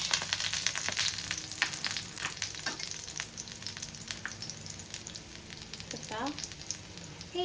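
Vegetarian fish pieces sizzle steadily in hot oil with crushed garlic and curry leaves, a dense crackling fry with occasional utensil scrapes and a brief spoken word near the start.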